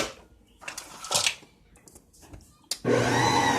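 An electric mixer with a blending head churns sifted flour for sourdough, a steady loud motor whir that swells in short bursts before settling into a continuous close drone at the end.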